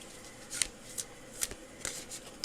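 Tarot cards are handled and shuffled in a few quick, close snaps and flicks, each a short crisp burst separated by quiet gaps.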